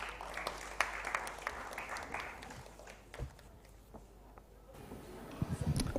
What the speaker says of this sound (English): let's have a huge round of applause for Mr.